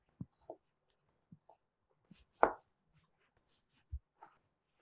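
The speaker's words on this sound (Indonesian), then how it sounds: "cuma motong daging, selesai" A knife chopping beef on a board for rendang: sparse, isolated dull thuds at uneven intervals, close but soft, with one louder knock midway and near-silence between strokes.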